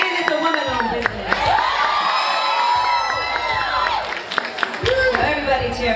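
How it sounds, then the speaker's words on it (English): A crowd at an outdoor community celebration in Brooklyn's Restoration Plaza cheers and whoops loudly for several seconds, with shouts rising and falling and a voice over amplified sound nearby. "So everybody cheer for that."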